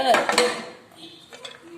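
A spoon stirs venpongal in a large metal cooking pot, giving a few close clanks and scrapes against the pot's side in a short burst, then quieter shuffling.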